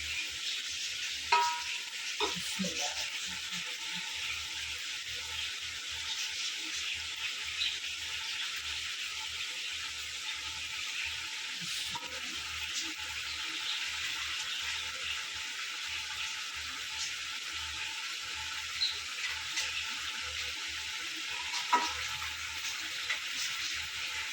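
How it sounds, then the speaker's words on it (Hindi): Chicken and potatoes fry in a pot for Karachi-style biryani, giving a steady, close sizzle with occasional stirring clatters and scrapes throughout, no voices. "अब इसमें मैं आलू डाल के ज़रा फ्राई करके मसाले डाल दूँगी"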